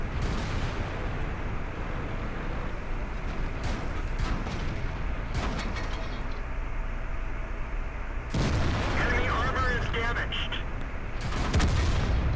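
Artillery and tank gunfire in the World of Tanks video game, with a Rhm.-Borsig Waffenträger tank destroyer in battle: several loud, booming shots and impacts break through a dense, constant rumble of combat noise.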